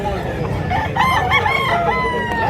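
Several roosters crow in overlapping calls at a chicken market in Mantalungon, Cebu, moderately close, over a busy background murmur.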